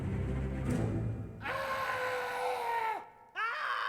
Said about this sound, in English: Something about the first guy's scream.